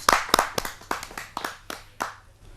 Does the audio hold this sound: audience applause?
yes